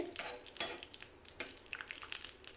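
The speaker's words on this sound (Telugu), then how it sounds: "ముందుగా జీడిపప్పులు వేసి వీటిని కాస్త వేగనివ్వాలి" Cashews fry in melted ghee with soft, scattered crackles and bursts of sizzle, joined by faint stirring scrapes in a pan, quiet and close with no voices.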